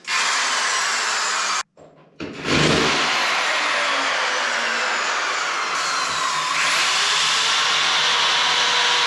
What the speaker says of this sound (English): So let's see if I can drill this.